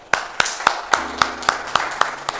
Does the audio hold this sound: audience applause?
yes